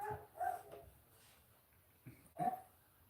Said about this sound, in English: I thought that was Thomas barking